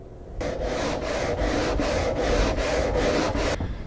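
Mahogany wood on a wooden boat's aft cabin is sanded by hand in steady back-and-forth rasping strokes, close and continuous, with about eight even pulses and no talk.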